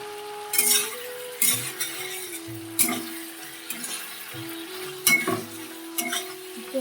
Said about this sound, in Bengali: মাছ আলুটা কষিয়ে নিই, নাড়িয়ে চাড়িয়ে মাছ দিয়ে দেবো।